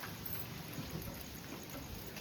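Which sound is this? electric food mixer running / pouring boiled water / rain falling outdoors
rain falling outdoors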